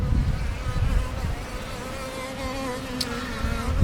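Honeybees buzzing in a top bar hive, a steady, close, continuous droning hum that holds at a constant level throughout, with no talking.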